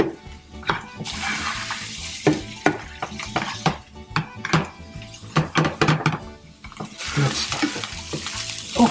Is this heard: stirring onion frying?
yes